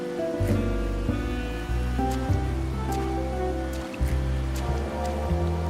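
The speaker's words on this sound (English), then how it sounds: "But today's rain feels different." Steady rain falls in the video game Wuthering Waves, a soft continuous hiss running beneath sustained background music with slow melodic chord changes.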